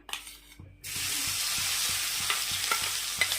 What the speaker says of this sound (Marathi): आता तेल तापलं पण आणि असं बत्त्यामध्ये जाडसर असं कुटून घेतलेलं आहे आपलं वाटण आता यामध्ये टाकू आपण